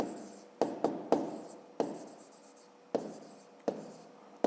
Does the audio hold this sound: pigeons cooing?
no